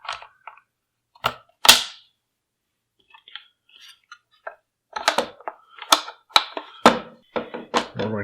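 Metal pins are pressed into the pistol grip assembly of an HK G36 rifle, giving sharp close clicks and taps scattered between quiet gaps, with a cluster of faster clicks toward the end.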